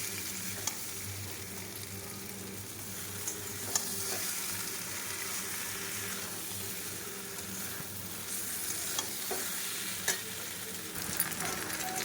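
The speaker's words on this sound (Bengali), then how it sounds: "এবার দিয়ে দেবো ভেজে রাখা মাংসগুলো।" Meat that was fried earlier is stirred in a pan with oil, giving a steady close sizzle with occasional scrape and clink accents from the stirring utensil, no voices.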